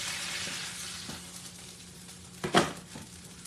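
A smashed burger sizzles on an electric griddle, a soft steady frying hiss with a few small clinks and scrapes from a spatula, including a sharper clatter near the end, heard up close with no voices.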